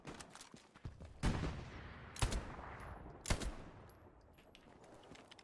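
Gunfire in the World War II shooter Hell Let Loose on a desert map: several sharp, loud shots spaced about a second apart with distant crackling fire and battle noise between them, no talking.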